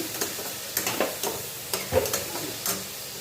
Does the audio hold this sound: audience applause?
no